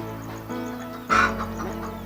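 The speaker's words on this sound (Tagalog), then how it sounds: "Ilang piraso pa yung mga manok na yan." Sick chickens with eyes kept shut cluck close by, with one louder, sharper squawk in the middle over a steady background hum.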